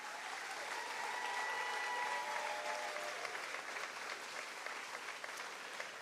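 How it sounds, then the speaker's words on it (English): Crowd applause at the 146th annual Fancy Farm Picnic, a Kentucky political gathering, heard as a distant, faint, sustained wash of many hands clapping for several seconds with no speech. "let's give everybody who's up here a round of applause if we could."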